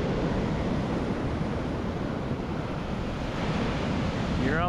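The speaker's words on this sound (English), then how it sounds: "The waves are coming in" Ocean waves breaking on a shell beach in a strong current, a dense continuous roar of surf mixed with wind buffeting the microphone, loud and unbroken throughout.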